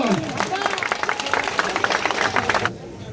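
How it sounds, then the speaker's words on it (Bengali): Audience clapping at a Jagaddhatri Puja village gathering, a sustained crowd of hands applauding together at moderate loudness that stops abruptly near the end. "সকলে আমরা করতালির মাধ্যমে অভিনন্দন"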